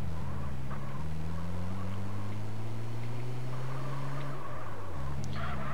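Motorhome engine roaring at high speed in the driving game MTA, a steady loud drone that climbs gradually in pitch, briefly dips, then resumes.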